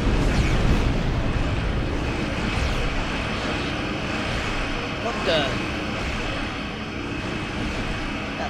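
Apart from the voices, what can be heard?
starship fighter flying past in Star Trek Online video game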